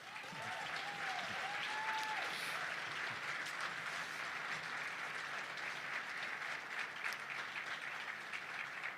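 Sustained, dense applause from a large audience at the Manitoba PC leadership results, steady and loud for the full stretch, with a few faint whistles near the start.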